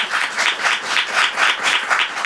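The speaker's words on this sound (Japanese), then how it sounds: "が良かったという方はどうぞ拍手をしてください" An audience claps in a steady, dense burst to cast a vote at a Japanese waka poetry art event, the applause rising and falling slightly in waves and holding for a couple of seconds, with no talk over it.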